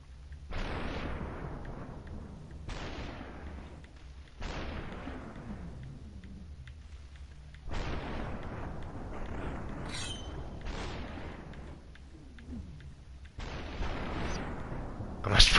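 Enemy gunfire in the Superhot video game bursts out in a series of sharp booming shots, roughly seven or eight blasts spaced a second or two apart, each trailing off into a brief echo.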